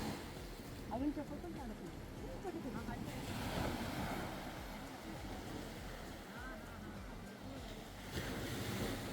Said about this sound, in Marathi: हा छोटासा वाळूचा किनारा अंगावर येणाऱ्या लाटा मनामध्ये उत्साह निर्माण करतो